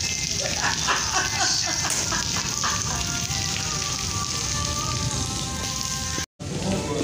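Heavy rain pours over a village, a dense continuous hiss of drops hitting the ground and roofs, steady and close. A short dropout comes near the end.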